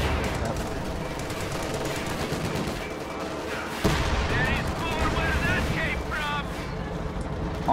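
Video game battle gunfire rattles in repeated bursts and cracks under other combat noise, including a long-range shot, with a sharp louder hit partway through.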